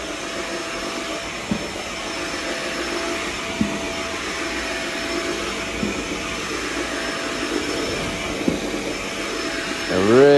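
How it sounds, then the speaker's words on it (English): A vacuum cleaner running during low-moisture carpet cleaning, a steady close whine with faint bumps as it passes over the carpet, ending in a brief shift in pitch. "A really good vac"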